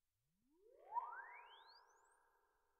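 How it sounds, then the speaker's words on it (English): A raw microphone recording of a tone sweep played from a studio monitor, a faint rising sine chirp gliding from low to high pitch over about two seconds, with a roomy resonant smear around its middle. "I will record that tone sweep by standing in front of one of my monitors, playing it,"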